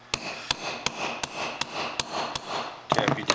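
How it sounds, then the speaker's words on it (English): Eight sharp metallic taps strike at a steady, evenly spaced rhythm while metal wire is set in place for wire twist mokume gane, then a quick cluster of lighter knocks follows, close and loud with no talking. "Tappy tappy. Just tap it in. Tap, tap, tappy."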